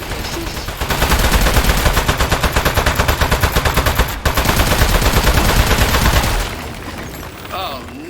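Rapid automatic gunfire rattles loud and continuous in Aperture Desk Job as shots hit a metal boss, with a brief break midway before the burst resumes and then cuts off into quieter game sounds.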